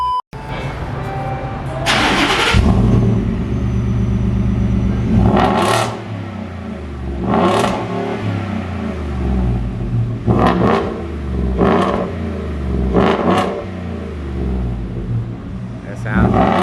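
A Ford F-150 truck fitted with a budget exhaust mod starts up, then revs in a series of sharp bursts over a deep rumbling idle. Someone talks between the revs.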